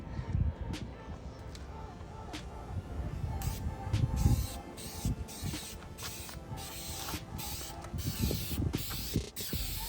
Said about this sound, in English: Spraying this middle section first,